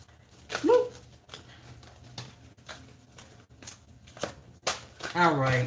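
An overly thick deck of cards is shuffled by hand in bursts of riffling and flicking, close and fairly quiet, with a brief louder flurry near the end.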